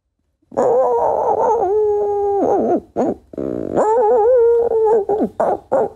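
A singer's voice imitates a distant dog howling, a sustained wavering howl with rising and falling pitch, broken into several long phrases and short yelps, close and loud, with no other talk.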